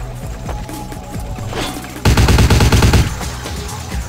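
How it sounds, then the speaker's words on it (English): Gunfire from a shotgun in Vampire: the Masquerade - Bloodlines, with scattered impacts and clatter, then a sudden loud burst of rapid repeated blasts lasting about a second before fading back to lighter game noise; no speech. "I think the shotgun works better in this scenario."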